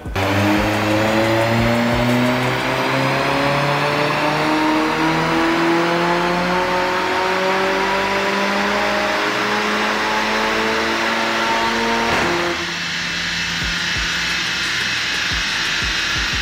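Tuned car revving hard on a dyno after a spark plug change, engine pitch climbing steadily for about twelve seconds under full load, then dropping sharply as the throttle lifts and settling to a lower drone.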